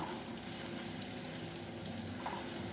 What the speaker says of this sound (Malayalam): വെളുത്തുള്ളി നന്നായി ചൂടായി വരുന്ന സമയത്ത് ഇതിലേക്ക് എരിവിനുള്ള പച്ചമുളക് ചേർത്ത് കൊടുക്കാം